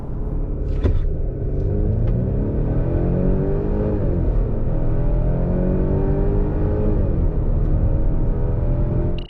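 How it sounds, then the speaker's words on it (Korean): A Volvo V60 Cross Country facelift pulls away from standstill under hard acceleration, its engine rumbling loudly with rising, sweeping tones as it climbs through the gears, heard from inside the car. "이번에는 발진 가속 성능을 보죠."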